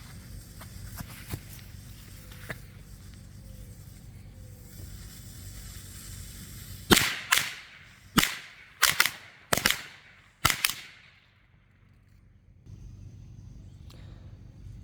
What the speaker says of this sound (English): Up next, we have the Red Hot Firecrackers by Shelton.